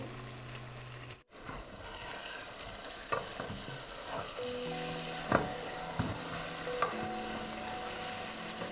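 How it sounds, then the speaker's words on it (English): Close-up sizzling in a hot pot of chicken stew as a utensil scrapes and stirs, with occasional clinks and a brief pause early on. "I just gotta stir them in, get them nicely mixed up"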